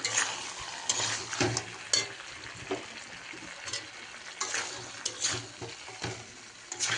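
Chicken curry with peas sautés in a pan, a continuous sizzle under frequent scraping stirs of a utensil, close and moderately loud.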